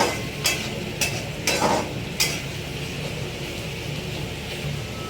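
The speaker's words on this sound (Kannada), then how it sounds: "ಆ ಡೀಪ್ ಫ್ರೈ ಮಾಡ್ಕೊಳ್ಳಿ ಕೆಂಪಾಗೋವರೆಗೂ" Chicken deep frying in oil until reddish gives a soft, steady bubbling sizzle, broken by a few sharp clinks and scrapes of a utensil against the pan.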